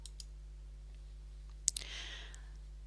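A single crisp computer mouse click sounds near the middle over a quiet, steady electrical hum, with a couple of fainter clicks at the start and a soft rustle after.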